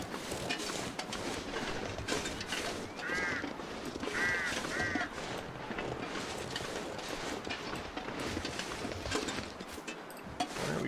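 Crows cawing in the survival game The Long Dark, a few harsh caws in two bursts over a constant rumbling ambient background, moderately distant and with no speech.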